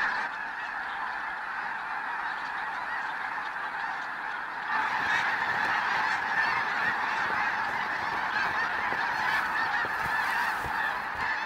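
A huge flock of snow geese honks continuously at Quill Lakes, Saskatchewan, a dense, steady wall of overlapping calls that swells louder midway, with no voices.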